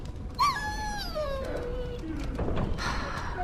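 A dog in Dragon Age: Origins gives a single drawn-out whine that slides downward in pitch, fairly close, followed by softer ambient game sounds and a faint voice.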